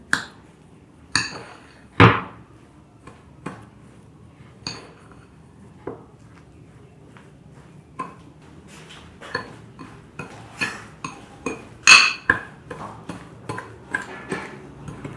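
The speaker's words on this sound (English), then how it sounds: "using a spoon, I'm going to mix my mixture" A spoon working cinnamon roll filling in a bowl, heard as scattered clinks and taps against the bowl, sparse at first and then quicker and denser, close and fairly crisp with quiet gaps between strikes.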